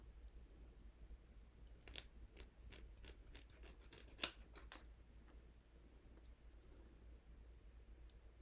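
Scissors snip through a thin plastic window sheet in a quick run of soft, close crisp cuts, faint and rhythmic, then fall quiet.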